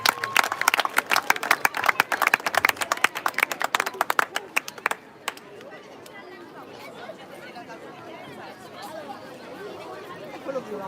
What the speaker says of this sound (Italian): Un bel applauso, grazie.